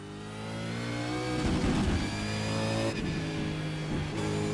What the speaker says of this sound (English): I found myself a Frog Leap Racing Commodore and I'm going to see if I can steer it around this Sonoma circuit.